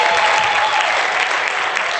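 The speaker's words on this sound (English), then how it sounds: "please give yourself a round of applause." An indoor audience at an Africa Day 2017 ceremony applauds, with loud, dense, sustained clapping from a large crowd that stays even throughout.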